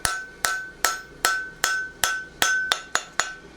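Ten sharp hammer blows ring out in a steady, near-regular rhythm as a smith flattens a plain stamp front horseshoe on the anvil. Each strike is loud and close, with a bright metallic ring that decays between hits.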